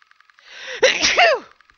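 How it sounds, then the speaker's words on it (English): A single sharp sneeze with a gasping intake before it, loud and close, surrounded by faint ticking. "That was a weird sneeze."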